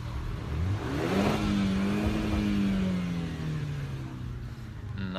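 A Jaguar XE 30t sports sedan engine revs up steadily and holds a loud, rising drone before easing off, heard close with no talking.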